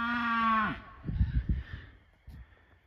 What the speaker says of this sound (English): It's not even her baby, but she's mooing for it.